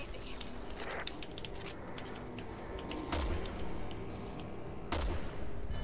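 Sniper rifle shots in Resident Evil 6 gameplay, two sharp cracks a couple of seconds apart rising out of a busy background of game noise and metallic clinks, with players talking over it.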